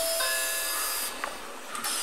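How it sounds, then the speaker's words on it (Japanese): Train doors closing on a simulated railway, a sustained hiss of air with faint tones, then a brief thump and a quieter settling hiss as the doors seal. "ドアが閉まります。"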